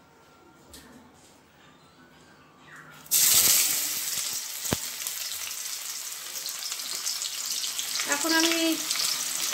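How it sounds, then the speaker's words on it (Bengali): Onions sizzle loudly in hot oil in a pan, browning while a chicken dish is cooked; a quiet moment with brief speech gives way to a sudden, steady hiss that keeps crackling to the end. "পেঁয়াজটা ভেজে নিচ্ছি, একটু বেরেস্তা করে দিচ্ছি"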